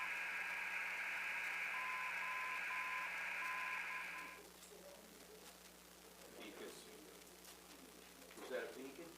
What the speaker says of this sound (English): What is this Morse code?